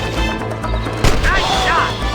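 Gunfire in the Red Dead Redemption video game, a sharp shot cracking out mid-way over a steady background hum, with faint chirping tones after it.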